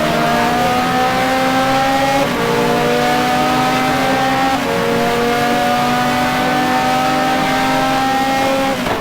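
Race cars, including a BMW and an Aston Martin GT2 car, roar around the Brno circuit in a sim racing game, with loud sustained engine drone and shifting pitches from several cars close together and no talk.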